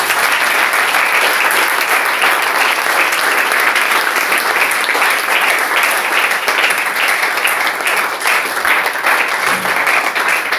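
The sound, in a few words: congregation applause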